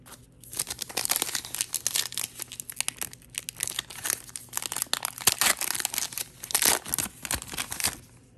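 Baseball card pack wrappers are torn and crinkled open in repeated crackling, rustling bursts heard close up, with brief pauses between handlings.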